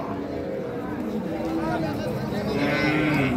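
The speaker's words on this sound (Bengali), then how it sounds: "আপনারা দেখছেন এখানে যে শাহিওয়াল, সিন্ধি এবং দেশি জাতের দুধের গাভী গরুগুলো প্রায় বিক্রয় করা হচ্ছে" Sahiwal, Sindhi and local-breed dairy cows moo at a busy livestock market, long drawn-out lows rising over a constant crowd hubbub with people talking nearby.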